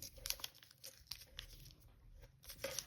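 Paper being folded for origami, with soft, close crinkles and crisp creasing rustles in several short bursts, faint and quiet, with no voice.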